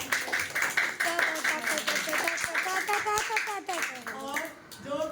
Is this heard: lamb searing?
no